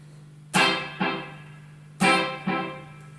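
Two guitar strikes through an Echolette NG 51 tube tape echo at middle tape speed, each answered by one clear repeat about half a second later, over a constant low hum.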